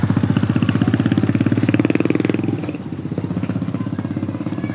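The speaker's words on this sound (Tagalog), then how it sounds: "Sa gilid lang kayo, may motor" A motorcycle engine runs loud and close beside a street near a small shop, a steady throbbing idle that eases slightly before rumbling on, with no voices over it.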